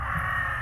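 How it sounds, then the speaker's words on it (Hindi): Crows cawing from trees by a riverbank at night, a brief loud harsh caw close by with no other sounds. "पेड़ों पर बैठे कौओं ने अचानक से शोर मचाना शुरू कर दिया।"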